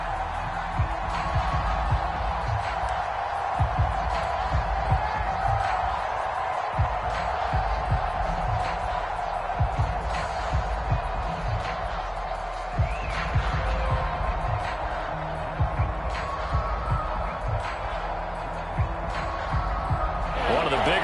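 Steady roar of a football stadium crowd building before a big third down, a constant loud wash of noise with scattered bangs and cheers beneath an announcer talking throughout.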